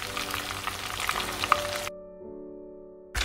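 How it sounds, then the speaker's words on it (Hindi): Chicken pieces frying in oil in a pan while cooking chili chicken, a dense steady sizzle for about two seconds that then abruptly cuts to near silence before resuming briefly at the end. "बाकी भी हम इसमें डाल लेंगे और ऐसे ही फ्राई कर लेंगे।"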